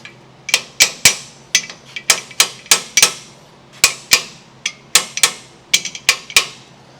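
A hammer strikes metal in sharp, ringing blows, some in quick pairs, repeated over and over close by with brief pauses between groups, while narrowing a Ford Model T rear axle.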